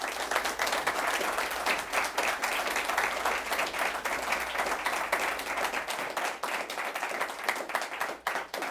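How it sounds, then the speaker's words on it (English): An audience at a Rockville mayoral debate applauds, with dense, sustained clapping that continues steadily throughout. "Let's have a round of applause"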